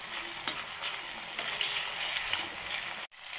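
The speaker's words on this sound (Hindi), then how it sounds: "इन्हें भी अच्छी तरह से फ्राई होने देते हैं 1 मिनट के लिए तेल में।" Green peas frying in hot oil for a Hindi daliya recipe, a steady soft sizzle with light stirring scrapes, fairly quiet throughout.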